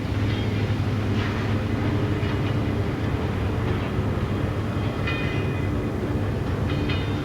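A train rumbles steadily through a station, a loud continuous roar with faint squeals and rattles, and no talking.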